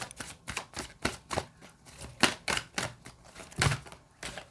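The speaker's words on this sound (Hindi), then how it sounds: "बहुत सारे कार्ड्स गिर रहे हैं हमारे पास" Tarot cards are shuffled and slapped down in quick, irregular crisp flicks and taps, close up and alone with no voices.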